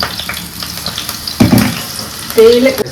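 A home-cooked dish frying in hot oil in a kitchen pan, giving a steady close sizzle with a couple of louder spitting bursts and a brief voice near the end.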